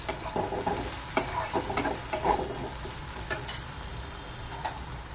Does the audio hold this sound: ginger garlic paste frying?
yes